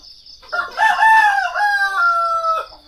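A rooster crows on a quiet morning in the Baduy Luar village of Kadu Ketug, one long, loud, drawn-out call that rises and holds before trailing off, with no talk over it.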